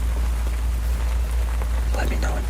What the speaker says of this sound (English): I will leave you now with the sound of the rain